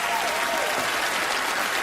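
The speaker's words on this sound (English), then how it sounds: "let's have a round of applause for him as he makes his way out." Audience clapping steadily for a volunteer walking up onto the stage at a magic show, a dense, even wash of applause filling the hall throughout.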